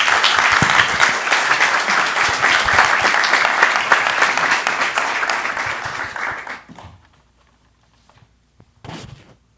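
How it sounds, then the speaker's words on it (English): Loud applause from a crowd fills a city council chamber for several seconds, then fades out, followed by a couple of faint knocks. "Another round of applause, please."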